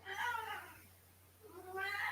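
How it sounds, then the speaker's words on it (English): A house cat meows twice close to a microphone, two drawn-out cries separated by a short quiet gap, with no talk around them. "I think my cat got on the hot mic there."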